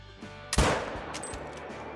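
A single sharp 6.5 rifle shot cracks out in the hunting game Call of the Wild, loud and close, its blast trailing into a fading rumble.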